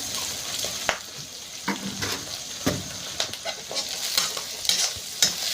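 Onions frying with a little salt in a pan, a steady close sizzle broken by repeated scraping and clinking stir strokes at an uneven rhythm, with no talk.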